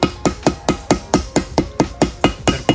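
A hammer taps steadily on masking tape covering a VW 1.8T 20V engine, about a dozen evenly spaced, crisp knocks in a quick, regular rhythm, close up with nothing else.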